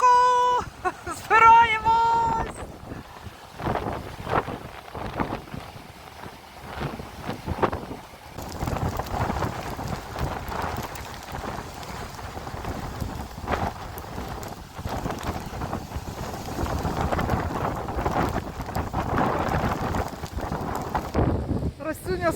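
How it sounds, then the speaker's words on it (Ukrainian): Strong storm wind gusting along the Odesa seafront in winter, with sea foam blowing about, roaring as a broad, steady rush of noise buffeting the microphone throughout, after a brief voice at the start. "Уявляєте, який вітер, як він оце несе?"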